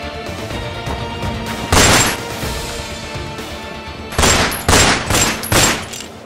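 Gunfire in an amateur short film. Several loud, close bursts of shots, a pair near the start and a cluster toward the end, over a constant background noise.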